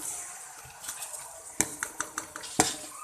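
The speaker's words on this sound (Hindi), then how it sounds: "और इसी के साथ भी इसमें दाल डाल देती हूँ" Lentils are stirred into masala in a cooking pot: a metal spoon scrapes and clinks against the pot in a quick run of close, crisp knocks over a soft background hiss.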